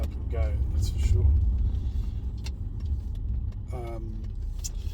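A 30-year-old Mercedes W140 S-Class with a V8 engine runs as a low steady rumble from inside the car, with someone speaking over it in short bursts.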